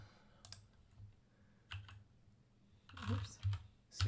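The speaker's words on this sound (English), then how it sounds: "So you'll type in" Numbers are typed on a computer keyboard in a few soft, scattered clusters of close key clicks, quiet and irregular, with brief pauses between the bursts.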